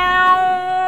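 A voice imitates a cat's meow in a playful, monstrous style as a singing sound for a cartoon cat monster, one sustained tonal cry held for about a second, close and fairly loud with no other talk.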